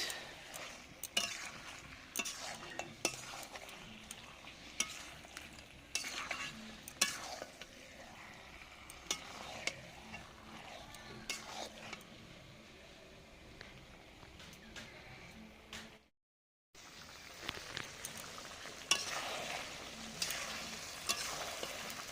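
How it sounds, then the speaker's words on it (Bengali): Mutton being stir-fried in a pan, a steady sizzle under repeated scraping and stirring strokes from a spoon against the metal, with a brief silent gap near the end before the frying resumes. "বেশ কিছুক্ষণ ধরে কষাচ্ছি, যতক্ষণ না তেল ছাড়ে ততক্ষণ কষিয়ে যাব।"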